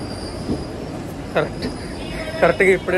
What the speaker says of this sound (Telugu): డాడీ వాళ్ళ ట్రైన్ కూడా వచ్చింది